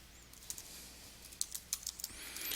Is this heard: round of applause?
no